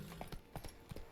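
Horse hooves clip-clopping in The Witcher 3, a steady run of fairly close, evenly spaced hoof thuds over a faint game ambience, with no talking.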